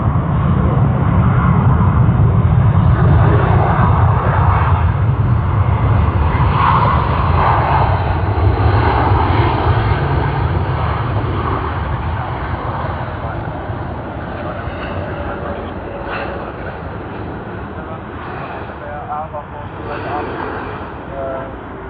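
A Cathay Pacific Airbus A350-900 jet at Sydney Airport roars steadily at full power, loud and sustained, then slowly fades into a lower rumble as it moves away.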